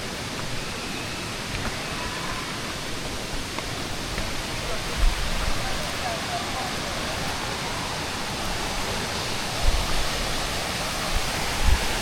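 Maruti waterfall at Chondhe in Shahapur, Thane, running with lower water than usual, gives a steady, broad roar of falling water that fills the whole scene evenly, with a few faint bumps and no clear voices on top.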